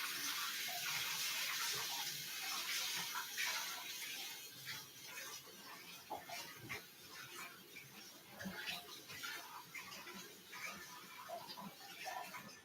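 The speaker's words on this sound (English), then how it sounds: "I'm going to rinse these out just in case we need them." Tap water runs steadily into a sink while items are rinsed beneath it, a close, continuous hiss and splash, with faint irregular clinks as the stream is disturbed.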